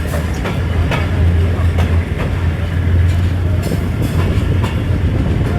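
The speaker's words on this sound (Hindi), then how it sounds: "हमारी ट्रेन अब फाइनली अप्रोच बनाने लगी है जी गुजरावाला रेलवे स्टेशन के ऊपर" Passenger train running through heavy monsoon rain on approach to Gujranwala railway station in Pakistan, a steady loud rumble and clatter of wheels with a constant low hum, continuous throughout.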